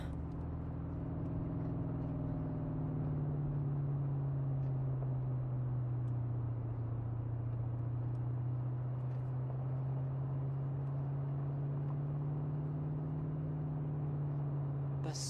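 Steady car engine hum from a Cyberpunk 2077 drive in a limousine, a continuous low drone with a slowly shifting pitch held close and even throughout, with no voices.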